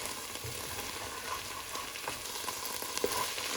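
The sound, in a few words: onions frying in a pot being stirred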